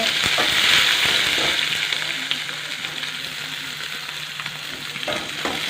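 Curry leaves and onions frying in oil with chana and urad dal, a steady close hiss of sizzling that is loudest at first, with occasional faint scrapes of stirring.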